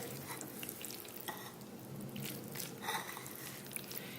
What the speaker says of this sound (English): I'm going to fold this mixture